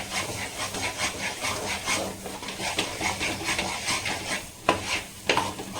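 Thick palkova milk sweet being stirred in a pan over a high flame: rhythmic scraping strokes over a bubbling sizzle, close and fairly loud, with a couple of sharper knocks near the end.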